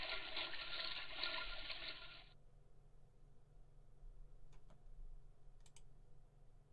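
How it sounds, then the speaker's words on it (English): A toilet flushes in a video game with a short rushing whoosh of water that cuts off after about two seconds, followed by quiet room tone and a few faint clicks. "let's flush the toilet."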